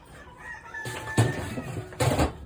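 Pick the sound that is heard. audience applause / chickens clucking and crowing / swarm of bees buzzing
chickens clucking and crowing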